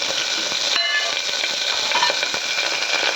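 Green chillies and curry leaves tossed into hot ghee raise a loud, continuous crackling sizzle, with scattered pops and spits over a steady hiss. The frying is close by, and no one speaks.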